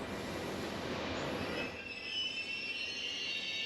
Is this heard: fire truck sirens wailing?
no